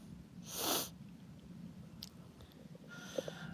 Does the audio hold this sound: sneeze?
yes